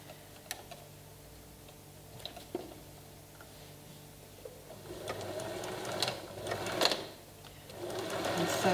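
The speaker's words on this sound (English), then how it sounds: "And then you can stitch all the way around the top of the bag" A sewing machine stitches around the top edge of a fabric strip bag, quiet ticking and whirring in short bursts that grow steadier and louder toward the end.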